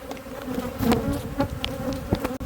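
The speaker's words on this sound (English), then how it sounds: "I've probably got 30-40 bees around my face and it's a bit annoying" Honeybees buzz close around a beekeeper's face at a hive in an apiary, dozens of insects droning in overlapping whines that swell and pass by the ear.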